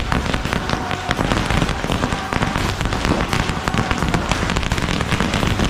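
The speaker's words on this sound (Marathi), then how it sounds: "खूप पाऊस, म्हणजे पावसाने वाट लावायला घेतले" Heavy rain falls during Diwali festivities, a dense, continuous hiss and patter with sharp crackling bursts like firecrackers mixed throughout, loud and close with no pause.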